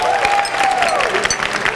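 A crowd applauds a magic trick at a school grad night show, a dense, steady wash of clapping with a few brief cheers and a thin whistle-like tone running through it.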